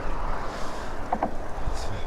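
Wind buffets the microphone on a Sicilian road during a bicycle ride, a steady low rumble with gusting swells, close and continuous throughout.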